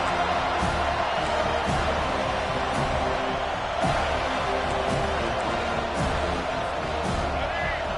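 A home crowd at a football game on a third-down defensive play roars continuously, a dense wash of cheering and whoops with occasional sharp bursts and voices mixed in.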